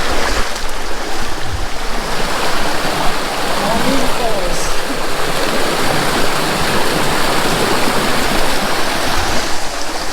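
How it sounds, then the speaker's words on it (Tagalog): Continuous rushing water from a nearby river in Sultan Kudarat, Philippines, flows steadily throughout, a dense broadband wash with no pauses. "mga ilog na napakaganda"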